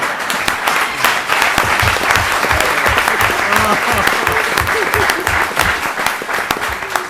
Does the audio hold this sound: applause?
yes